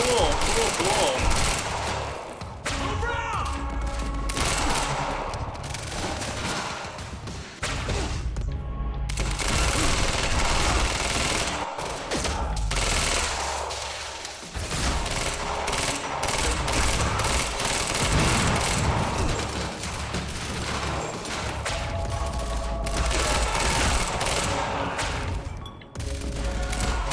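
Sustained automatic gunfire in the Quantum Break video game, a dense and continuous barrage of shots with booms layered over it that hardly lets up.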